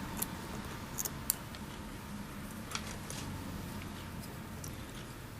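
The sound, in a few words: scissors trimming thread while tying a March Brown Emerger fly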